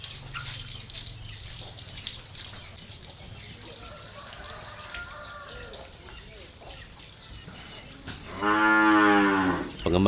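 Bali cattle kept by local farmers, one loud drawn-out moo near the end after a stretch of dripping water and background noise, with a voice speaking earlier in the clip.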